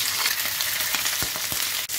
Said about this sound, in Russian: Во время жарки рыбы я не тереблю ее туда-сюда.